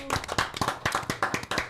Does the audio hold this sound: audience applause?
yes